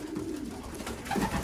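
Racing pigeons coo softly inside a crowded loft aviary, low murmuring calls rising slightly near the end over a dense background hum.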